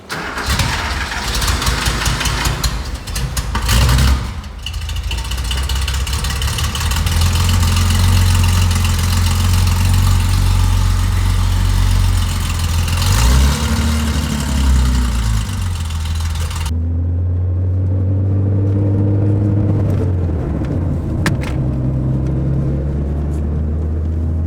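A Porsche 911 Autofarm backdate engine idles steadily while warming up after a short test drive, a loud, close, even rumble with a slight shift in pitch partway through and no talking.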